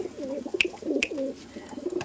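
Aggressive giribaj pigeons coo from a distance in soft, rolling low calls, with a couple of sharp clicks in between.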